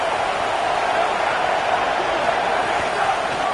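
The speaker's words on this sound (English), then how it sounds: "This crowd knows when to bring it." Stadium crowd in NCAA football, a constant broad roar of cheering and noise, loud and sustained without letup, with commentary over it.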